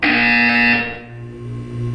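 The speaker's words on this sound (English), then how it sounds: "You will hear a buzzer. When you hear the buzzer, look down at the floor." A loud, steady electronic buzzer from the video game Portal 2 sounds alone, a harsh tonal drone that holds for under a second before fading into a quieter lingering hum.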